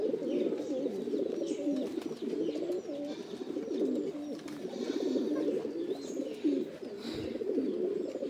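Several domestic pigeons kept for sale coo continuously in a low, warbling chorus, steady and close, with occasional faint chirps over it and no talking.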